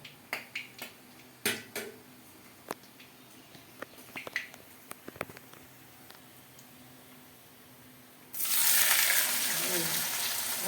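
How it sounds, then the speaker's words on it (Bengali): A few light clicks and taps in a quiet pan with whole garam masala, then a sudden loud, steady sizzle as onions hit hot oil and keep frying for chicken biryani. "পেঁয়াজটা আমরা লাল লাল করে ভেজে নেব।"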